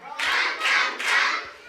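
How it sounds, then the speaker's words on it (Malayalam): Three quick bursts of audience applause greeting a bunny mascot at a church vacation Bible school event, close and lively, each swell of clapping rising and fading. "അപ്പൊ എല്ലാരും നല്ലൊരു കൈയടി കൊടുക്കുന്നു."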